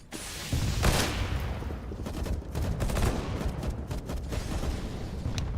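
A thrown grenade in the video game Counter-Strike: Global Offensive, heavy bursts and rattling gunfire in a dense, loud match mix, no talk.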